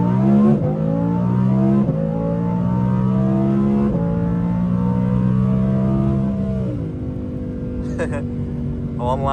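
Audi R8 Performance pulls hard through the gears, its engine note climbing in pitch with several sharp shift drops, loud and close from inside the car, with a brief chirp near the end.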